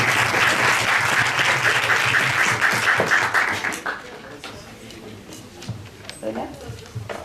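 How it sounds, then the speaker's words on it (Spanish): Audience applause at a Spanish-language debate final, a dense steady clapping from a crowd that rolls on loudly for several seconds, then thins out to scattered claps and a few voices near the end. "Aplausos, por favor."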